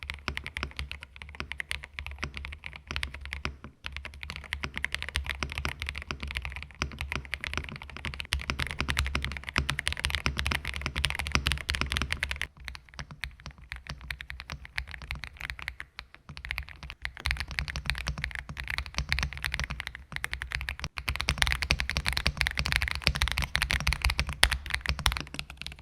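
A mechanical keyboard, either a Kreo Swarm or an Aula F75, is typed on continuously in a sound test, giving a dense, even patter of key clicks and thocks up close at moderate level with no talking.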